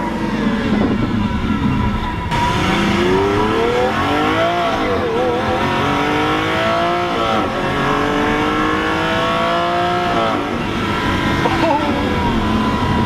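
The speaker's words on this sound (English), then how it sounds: "it's been too long since I've been in a Lamborghini Aventador. That single clutch it's so brutal." Lamborghini Aventador with a single-clutch gearbox revving hard from inside the cabin, the pitch sweeping up and dropping with each brutal shift, loud and continuous throughout.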